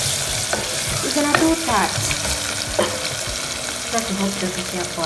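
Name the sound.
stirring ginger frying in a pot for beef pilau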